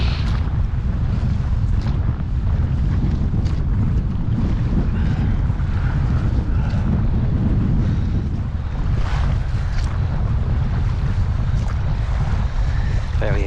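Steady wind buffets a small dinghy out on the Kingsbridge estuary, a constant roar of gusts against the microphone mixed with splashing water and chop, loud and close throughout.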